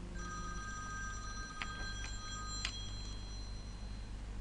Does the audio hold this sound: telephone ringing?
yes